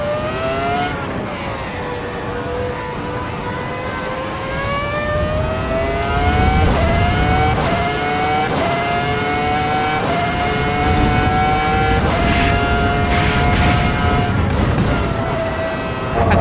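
A Formula 1 car engine on the Nürburgring in a racing video game screams loudly and continuously, its pitch climbing through gears with repeated shift drops and brief lifts, close and alone without talk.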